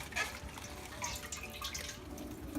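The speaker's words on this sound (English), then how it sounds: "I keep rinsing and draining and rinsing with clean water" Water running and splashing while lettuce is rinsed, a faint close trickle with light drips and sloshing, steady and quiet with no voices.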